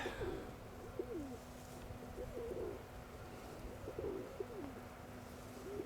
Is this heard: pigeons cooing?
yes